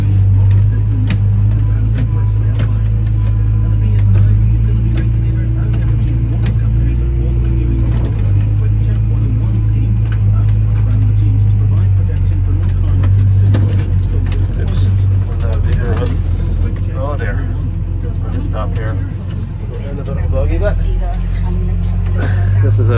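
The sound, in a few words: John Deere 6140R tractor ploughing with Kverneland plough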